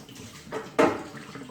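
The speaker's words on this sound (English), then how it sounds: "I need to make sure that all of the water has been drained out of it" Water draining from an emptied fire extinguisher being prepared for a hydrostatic pressure test, a brief splashing gush that swells suddenly and then trails off, close and moderately loud with no talk.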